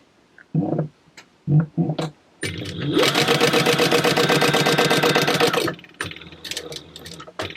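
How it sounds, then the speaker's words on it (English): A sewing machine stitches along a line on the top of a wallet in a steady, fast mechanical whir for a few seconds, preceded and followed by soft handling knocks and bumps. "we're going to go back to the sewing machine and stitch on the top"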